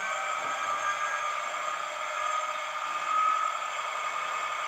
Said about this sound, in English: what thrashing gives is basically revving the engine up to build up pressure